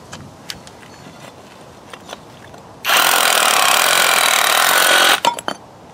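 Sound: Avhrit cordless hammer drill chiseling bricks

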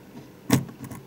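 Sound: tablet clipping into keyboard dock

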